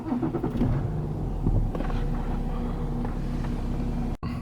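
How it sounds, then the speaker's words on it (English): A BMW F10 5 Series starts up with a brief crank and catch, then settles into a low, steady idle rumble heard from close by inside the car. "Okay, so I'm going to quickly start the car."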